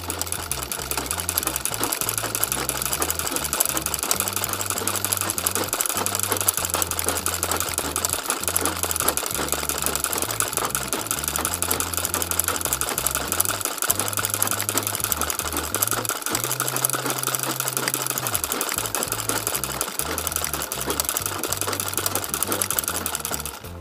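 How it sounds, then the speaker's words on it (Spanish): Sewing machine stitching an embroidered bee and flower design, its rapid mechanical rhythm running loud and close almost without pause, with a couple of brief stops. "Vamos a irnos para acá, encaminar un poquito nuestra máquina."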